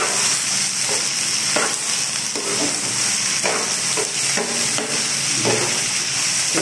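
Chili peppers frying in a pan at a home stove, giving a steady, loud, continuous sizzle with occasional soft stirring scrapes and no talking.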